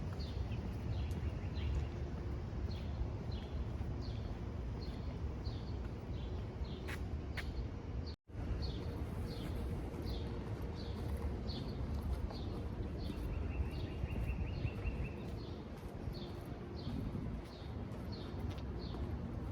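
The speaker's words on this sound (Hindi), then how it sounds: "और परिंदों के चहचहाने की आवाज़ें आ रही हैं।" Small birds chirp in short, repeated bursts throughout a quiet residential street in Queens, New York City, over a steady low background hum of the neighbourhood.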